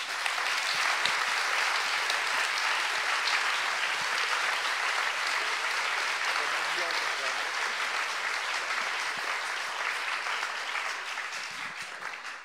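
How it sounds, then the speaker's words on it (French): A large audience gives a long, continuous applause to welcome two guest authors onto a stage. The clapping stays dense and even throughout, then thins slightly near the end. "le meilleur moyen d'accueillir dignement nos invités, Leila Slimani et Frédéric Becbédé, c'est de leur dire bonjour avec vos applaudissements"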